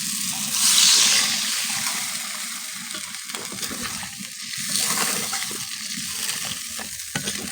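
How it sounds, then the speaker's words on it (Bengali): Water poured into a pan of frying prawn and potato curry, producing a steady broadband sizzle and bubbling hiss with stirring clatter throughout, loudest near the start, close by with no talking. "এবার জল দিয়ে দিব, হয়ে গেছে আমার কষানো।"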